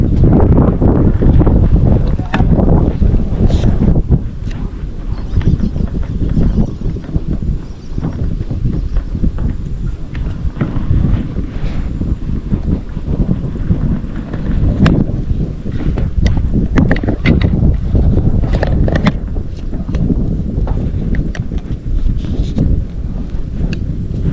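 Steady wind rushing and buffeting against the microphone at a fishing spot, with a loud low rumble throughout and occasional knocks and clatters.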